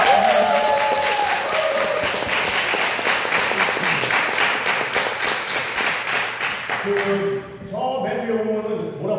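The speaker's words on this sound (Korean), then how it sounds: "선택을 잘하신 여러분들한테 박수 한번 보내주세요" An audience at a detox diet healing camp lecture breaks into lively, crowded applause that runs strong for about seven seconds, then fades as a single voice starts talking.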